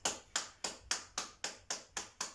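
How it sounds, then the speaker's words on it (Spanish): Children clapping their hands during an at-home preschool exercise class, making a steady, evenly spaced series of about nine sharp claps close to the microphone, with no talking. "Y ese aplauso es para ustedes."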